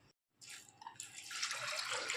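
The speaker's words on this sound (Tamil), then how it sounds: "1 கப்பு தண்ணி ஊற்றிக்கணும்." Water poured from a cup into a cooker for yellow pumpkin kulambu, a close splashing trickle that starts after a brief pause and keeps running steadily, with no talk over it.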